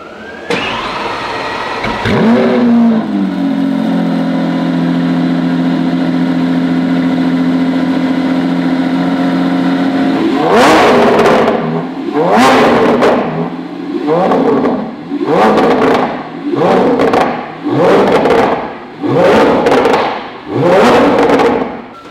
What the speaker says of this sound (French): Ouais, c'est pour moi le plus beau V12 au monde, clairement. Au niveau de la sonorité